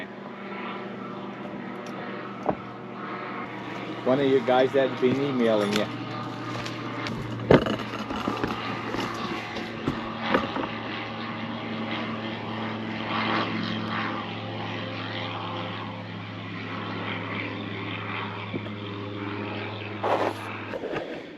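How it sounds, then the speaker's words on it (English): A float plane's propeller engine drones steadily overhead near a cabin under construction, holding loud for most of the stretch before fading at the end, with brief bits of conversation and a few knocks over it. "Float plane."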